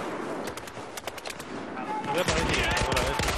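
Automatic gunfire crackles in rapid bursts throughout a Battlefield 4 firefight, dense and close, growing heavier toward the end, with a voice speaking over the shooting.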